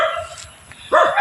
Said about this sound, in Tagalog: Madaming mga aso. Tumatahol.